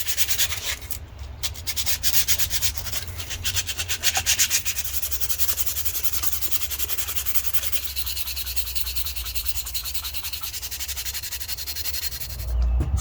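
A blade edge scraping printed markings off an Opinel knife blade, heard as rapid, close, continuous rubbing strokes that run evenly throughout with no talking.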